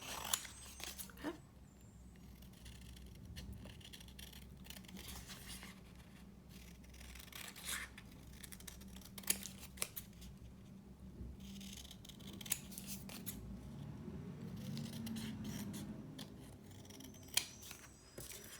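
Scissors snip around paper ephemera pieces for journal crafting, close and quiet, with irregular crisp cuts and paper rustling spread across a long stretch; no talking.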